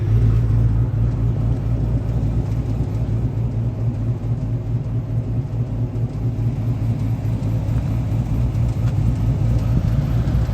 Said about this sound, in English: Driving the farm car today.